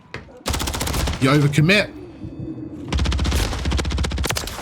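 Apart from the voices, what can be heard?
gunfire in Call of Duty video game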